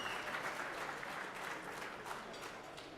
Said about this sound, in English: can we get a round of applause for everybody that made it here at this time?